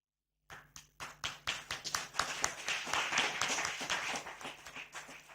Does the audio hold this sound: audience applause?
yes